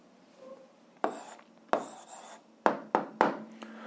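Handwriting on paper while an algebra answer is written out: a faint scratchy rub, then several short sharp pen strokes and taps in an uneven rhythm, close and fairly quiet, with no talking.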